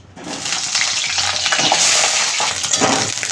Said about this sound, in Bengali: এবার এর মধ্যে আমি এই পটলগুলো ভেজে নেব।